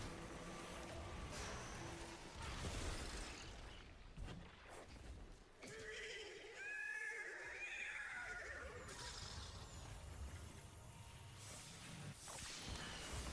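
A horse whinnies in the middle of a longer stretch of whooshing game noise. The call rises and wavers, sits at moderate level and is not very close, and a brief rumble comes before it.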